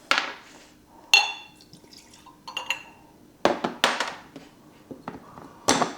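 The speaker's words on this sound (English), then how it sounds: "let's give this a pour and see how it is" Peerless Double Oak bourbon poured into a glass, heard close and fairly quiet as short bursts of trickling liquid and light glassy clinks separated by brief pauses.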